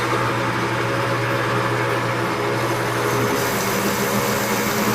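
A steam wagon engine slowed to about 300 RPM gives a steady, loud mechanical drone with a constant low hum throughout, alone without talk.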